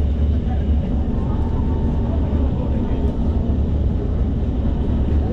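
Steady low rumble and rolling drone of a Singapore MRT train in motion, heard from inside a carriage, continuous and fairly loud throughout with faint background voices.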